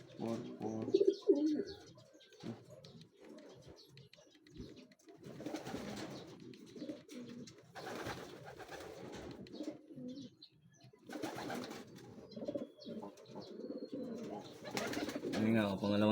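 Racing pigeons cooing at the loft after arriving from a training race, repeated soft low coos in bursts, with people talking at intervals.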